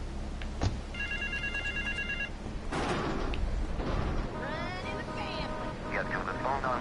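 A telephone rings in Grand Theft Auto 3 Definitive Edition, giving one short burst of steady electronic ring tones early on. It sits under continuous in-game radio talk and ambient noise.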